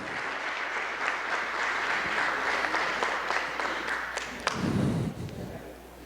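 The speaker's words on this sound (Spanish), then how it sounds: "le brindamos otro fuerte aplauso, por favor, a Rosita" Audience applause at a training week event, a dense burst of clapping that fills the room and then tapers off, with brief murmurs near the end.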